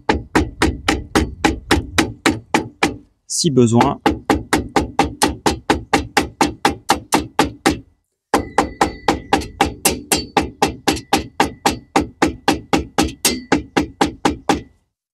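A hammer drives a wall anchor into a drilled hole with a long, even run of sharp, close knocks, pausing twice, the blows steady and rhythmic; a brief word is spoken between strikes.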